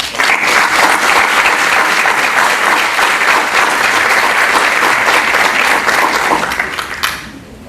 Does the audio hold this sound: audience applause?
yes